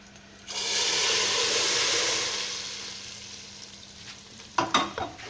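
Hot tadka poured into cooked chickpeas for Lahori chana sets off a sudden loud sizzle that hisses for a few seconds and slowly fades, followed by a few sharp clanks of a utensil against the pot.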